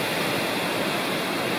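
Richland Creek, which becomes Henderson Creek along a trail in Laurel-Snow State Natural Area, rushes steadily, with dense, continuous broadband water noise close by and no voices.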